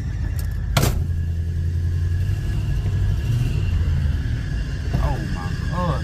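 A car pulling away with its engine revving and rumbling close by, a sharp squeal near the start and steady low engine drone throughout, with voices talking over it.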